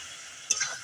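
Eggs drop into frying, fully cooked-down masala in a pan for an egg curry, with a brief burst of sizzle and spatter over a low steady frying hiss, alone and close.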